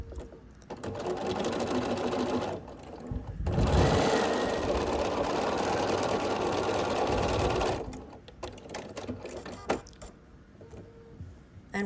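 Sewing machine stitching quilt block units into a grid, running in steady bursts: a short run near the start, then a long loud continuous run of several seconds, stopping before quieter handling noises.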